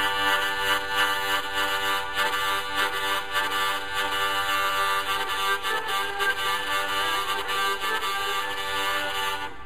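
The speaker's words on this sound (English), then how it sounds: "That's the sound of this piece vibrating and rubbing against the surface of the hurdy-gurdy." Hungarian hurdy-gurdy with its buzzing bridge (dog) vibrating and rubbing against the instrument's surface, a loud continuous rasping drone with rapid rhythmic buzzing throughout, heard alone.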